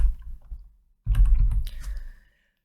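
Quick bursts of key clicks from a computer keyboard as code is typed, a brief flurry near the start, a pause, then a denser run of clattering taps, close and fairly quiet.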